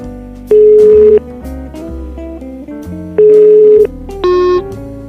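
Ringback tone on an outgoing phone call, with several sustained electronic tone bursts sounding loud and clear over a steady background of music.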